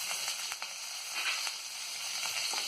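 Onions, curry leaves and green chillies fry in a pan for coconut rice, giving a steady, fairly soft sizzle with faint crackles throughout and no voices.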